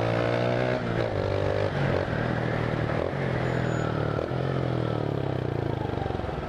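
Honda Fan 150 motorcycle fitted with a Cromo Forte exhaust, engine held running and revved in bursts, a loud close thumping drone with pitch rising and dipping throughout, faint clatter underneath.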